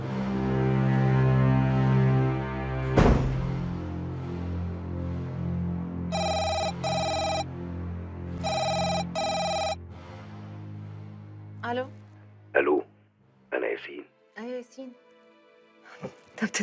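A hotel room telephone rings in two clear electronic bursts over a low music score, followed by short bits of people talking.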